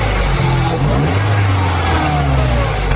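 A Mini Cooper S (R56 chassis) with its N14 turbo engine revs up and down steadily and loudly nearby, with a few throttle swells across a continuous engine drone.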